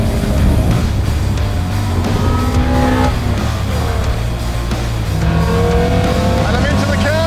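Toyota AE86 accelerating hard in second gear, a loud rising engine note with climbing harmonics, briefly dipping as revs reset, under constant road and wind noise, with voices talking over it.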